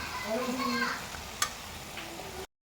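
Carrots frying in sugar syrup in a pan for carrot halwa, a brief close sizzle with stirring scrapes and one sharp clink, ending abruptly in silence.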